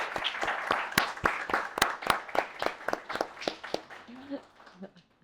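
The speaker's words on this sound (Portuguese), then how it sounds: "bate palmas, senhoras e senhores" Sparse, distinct claps from a small studio audience, slightly irregular and close, with a voice talking lightly underneath before the clapping trails off.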